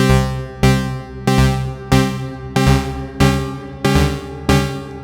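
A synth sequence of eight evenly spaced plucked notes with rich harmonics, each decaying before the next, the pitch micro-tuned so it sounds subtly off and shifting.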